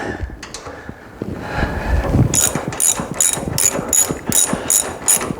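A ratchet tightens KYB shock absorber bolts on a Ford Mustang, a close rapid series of rhythmic clicks that follows a moment of mechanical fumbling.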